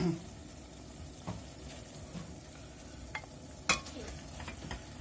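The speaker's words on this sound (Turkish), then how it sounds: "Kıymamızı ilave ettik. Karıştırmaya devam edelim şöyle." Minced meat and onions sizzle quietly in a pan while being stirred, with occasional scrapes and light clicks of the utensil over a steady soft frying hiss.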